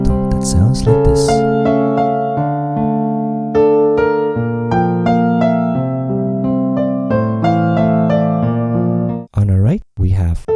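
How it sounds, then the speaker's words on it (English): A solo piano plays the instrumental passage from a song, a clear, close melody over sustained chords, followed by a few brief bursts of other sound at the end. "This bridges to a beautiful piano instrumental that sounds like this."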